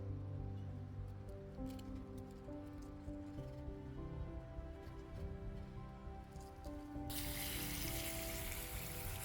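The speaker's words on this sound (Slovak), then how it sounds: "opláchnem ho potečúcou vodou a môžeme ho otvoriť" Running water pours steadily over a glass jar of syrup that had been buried in soil, a constant hiss that grows brighter and louder toward the end.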